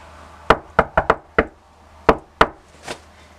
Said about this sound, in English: so go ahead and knock